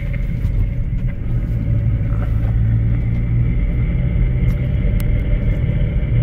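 A Nissan Rogue with a rough-driving fault makes a steady, heavy low rumble while rolling through a curve with weight shifting onto the front passenger side, continuous and fairly loud with no one speaking.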